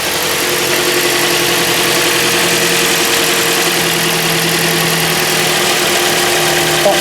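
A Toyota Auris engine idling after a water pump replacement, a steady close mechanical hum and vibration running evenly throughout with no talk.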